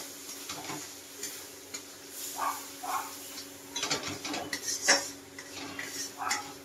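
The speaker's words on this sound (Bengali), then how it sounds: "মশলাটা খুব সুন্দর করে আমি মিক্স করে নেব এবার" Masala spice paste being stirred and fried in a pan, with a spoon clinking and scraping against the metal in irregular strokes over a low sizzle, close and steady.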